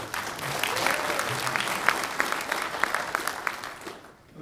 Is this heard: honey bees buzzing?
no